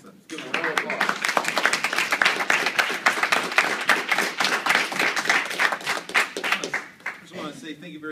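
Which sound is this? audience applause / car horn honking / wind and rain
audience applause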